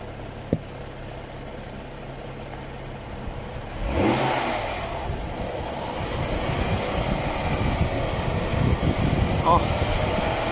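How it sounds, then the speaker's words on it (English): A 2015 BMW 640i xDrive Gran Coupe inline-six engine idles on a cold start, then revs up sharply and settles into a smooth, steady hum that rises gently toward the end. "very, very smooth running inline six"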